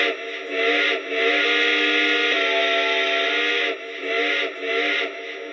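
Sound-system whistle of a Lionel Legacy 1630 Frisco Decapod model steam locomotive, a sustained chord-like steam whistle sounding loud and close in several blasts, with short breaks between long held tones.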